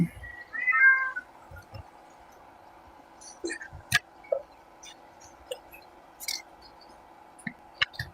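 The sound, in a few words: cat meowing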